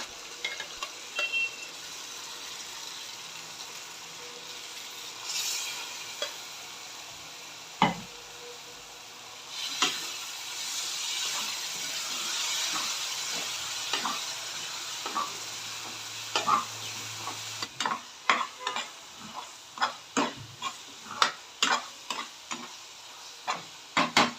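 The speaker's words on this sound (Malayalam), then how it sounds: "ഇനി മൂന്ന് തക്കാളി അരച്ചത് ചേർത്ത് പച്ചമണം മാറുന്നത് വരെ" Ground tomato paste sautéing in a pan for a crab curry with coconut milk, a steady sizzle with repeated close stirring scrapes and taps that grow sharper and more rhythmic toward the end.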